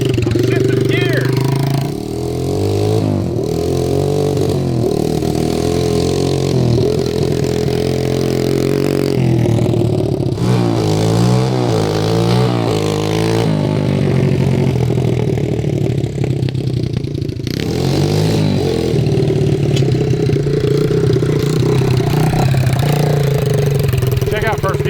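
A 1970s Scat Cat mini bike fitted with a four-speed shifter, its small engine revving steadily and rising and falling as gears change, loud and close throughout, with people talking over it at points.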